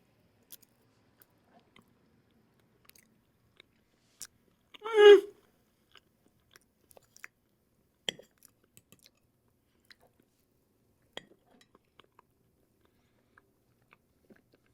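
One crisp, crunchy bite into a light chocolate cake with dense caramel frosting, close up, alone in a nearly silent room with a few faint ticks.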